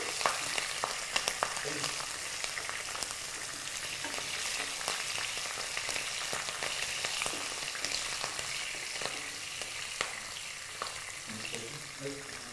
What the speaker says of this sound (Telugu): ఈ పచ్చిమిర్చిని నూనెలో వేసేయాలి నూనెలో వేసి వేగనివ్వాలి